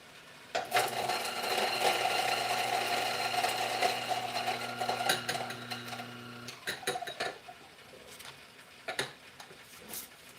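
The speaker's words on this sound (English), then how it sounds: "Let's grind these. I'll take a bit, purge the grinder." A coffee grinder whirs steadily through a batch of beans for several seconds, then stops; a few sharp taps and knocks follow as the grinder is purged, with no talking.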